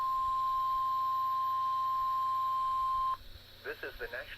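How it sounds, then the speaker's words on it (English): A NOAA weather radio test of the SAME tone alert from the National Weather Service in State College, Pennsylvania: a long steady pure tone that cuts off, then a stretch of data bursts and chirps. "The tones you just heard were a test of the specific area message encoding and tone alert systems."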